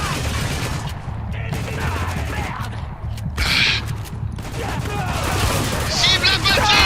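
Shotgun fire and combat noise in the Spec Ops: The Line shooter, loud blasts and rattling shots over a dense battle din, with voices calling out during the fight.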